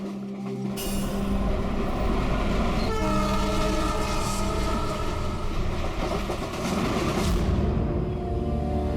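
Steady interior rumble of a moving train with rhythmic wheel clatter and rail noise, carrying on loudly throughout with no talk.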